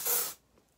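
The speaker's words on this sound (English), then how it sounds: "I like to use the volume dry shampoo because I have very fine hair. So first and foremost, gonna spray my hair." A short, close burst of volume dry shampoo sprayed onto fine hair, a bright aerosol hiss lasting about a third of a second before fading to near silence.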